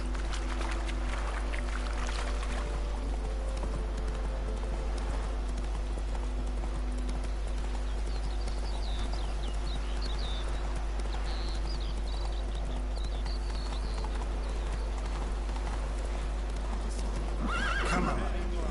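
A horse in the Witcher 3 game whinnies and snorts while hooves clip-clop steadily under a constant ambient drone, with a sharper burst near the end.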